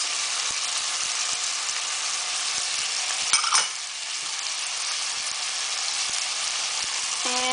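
Spoon stirring cumin, black pepper, salt, ginger, garlic, tomato paste and lemon juice into an eggplant stew (khoresht bademjan), over a steady close sizzle with scattered light clicks and one brief louder scrape midway.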